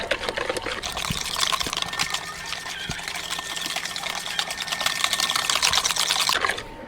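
Flour batter for fried onion snacks being stirred briskly in a bowl, a steady wet sloshing and churning that runs without a break at close range.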